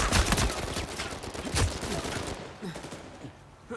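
Multiplayer gunfire in Uncharted 4 crackles in dense, rapid overlapping shots that thin out toward the end, loud and close.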